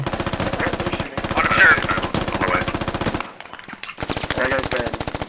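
Rapid automatic gunfire from a machine gun in the military shooter game Squad, an insurgency battle on the Kohat Toi map, rattling in loud sustained bursts with a brief pause near the end before firing resumes.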